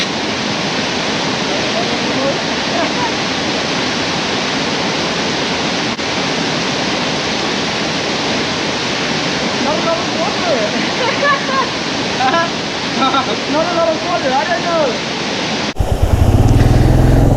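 Deep, fast river water roars loudly and steadily as motorcycles ford a crossing roughly three feet deep on the Kishtwar to Killar route, with a brief louder burst at the very end.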